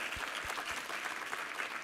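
A church congregation claps together at a Sunday service, a dense burst of applause at moderate distance with no voices over it.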